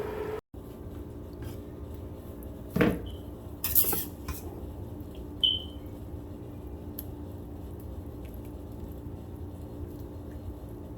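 Tuscan chicken sauce and pasta being served onto plates, with a few clinks of utensils and dishes against a quiet kitchen background, the clearest knocks spaced a few seconds apart.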